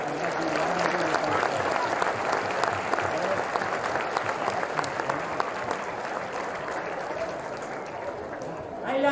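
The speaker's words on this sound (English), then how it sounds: "So round of applause for Mullaghbawn." A crowd applauds Mullaghbawn after a Gaelic football Intermediate Football Championship final, sustained clapping with voices and cheering mixed through it, fairly steady throughout.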